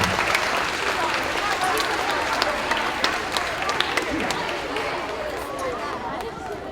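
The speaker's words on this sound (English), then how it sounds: "can we have a round of applause for all of our student speakers today?" Sustained crowd applause at a fifth grade moving-up ceremony, dense and steady clapping from many hands with a faint murmur of voices beneath, tapering slightly toward the end.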